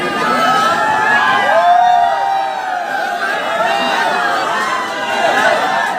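A packed crowd murmurs and chatters outside a sold-out cinema at a film premiere, with dense overlapping voices, a few shouts and whoops rising above the steady, loud hubbub throughout.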